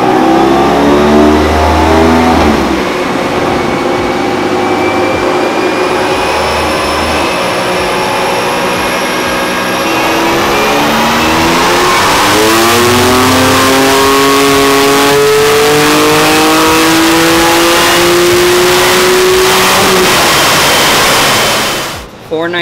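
A 2020 Toyota Supra with a stage 1 tune roars hard on a Mustang dyno, its engine pitch climbing through each gear in loud sweeping pulls with brief shift dips, ending in a sudden cutoff.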